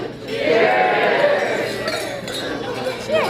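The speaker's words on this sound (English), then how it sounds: "have everyone raise their glasses here, and on behalf of the bride and the groom, Ken and Jen Melloy, say cheers." Glasses clink together in a bright, ringing toast at a wedding reception over a murmur of crowd chatter, with a final clink near the end.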